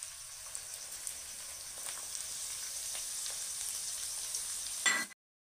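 Sliced onion, chopped capsicum and carrot fry in a pan for egg chowmein, giving a soft, even sizzle with faint crackles that stops abruptly.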